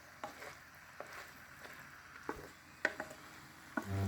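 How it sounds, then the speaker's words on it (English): Pepper paste being stirred in a pan for a countryside vegetarian dinner, with scattered scraping clicks and soft spoon knocks over a faint low sizzle, closing on a louder scrape. "then you add your pepper paste and mix them well"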